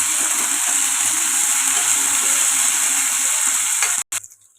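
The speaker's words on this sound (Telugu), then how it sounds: "అల్లం వెల్లుల్లి కూడా పచ్చివాసన పోయేదాకా ఫ్రై చేసుకున్నాం" Ginger-garlic paste fries in a pan, crackling and sizzling steadily and close for several seconds before a sudden stop and a brief clatter.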